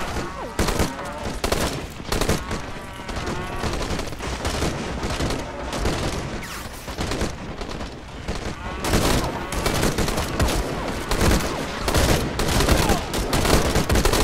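Rapid bursts of gunfire and machine-gun fusillades from the multiplayer war game Call to Arms, loud and dense throughout, with strafing fire and occasional booms blending under faint talk.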